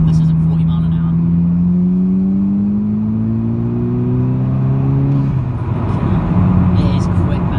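A Stage 2 tuned 275 bhp Rtech MK5 Golf GTI pulls hard in fourth gear from about 40 mph, its engine note rising steadily and loudly inside the cabin before easing off near the end, with no talk.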